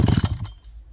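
A small two-stroke brush cutter engine catching after a pull-start, a quick run of rapid, loud sputtering firing pulses that cuts off abruptly, leaving a low rumble.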